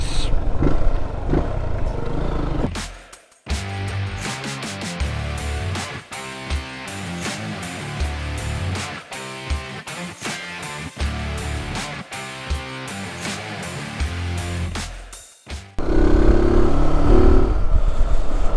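A Zontes Scrambler motorcycle rides with a loud, close engine drone that rises and falls through gear changes, cutting briefly near the start and again before the end.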